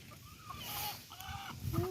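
Chickens clucking in a backyard garden, several soft calls near the listener against light outdoor background noise, with a louder cluck at the end.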